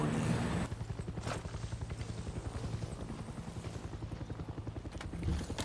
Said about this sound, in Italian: No, l'elicottero.